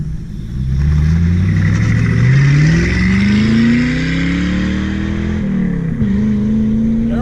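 A 1996 Ford Mustang GT with a 5.0-liter V8 pulls hard as heard from inside the car, its deep engine note rising steadily in pitch through a gear, a brief dip at a shift, then droning on, loud and continuous.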